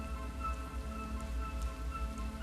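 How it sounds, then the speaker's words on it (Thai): Rain pours steadily in the wild habitat of saltwater crocodiles, a continuous dense hiss of drops on surfaces with a faint low rumble beneath and no voices. "อตอนนี้ดูเหมือนว่าฝนจะตกจริงๆแล้วล่ะ"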